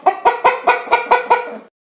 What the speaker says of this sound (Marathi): ही आहे कोंबडी. इंग्रजीमध्ये याला हेन म्हणतात.